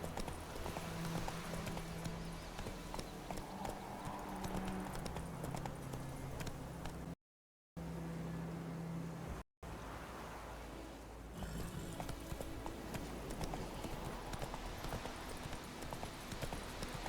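Hooves of Roach, the horse in The Witcher 3, clip-clop in a steady rhythmic walk over ambient outdoor game sound, moderately close and continuous apart from two brief dropouts.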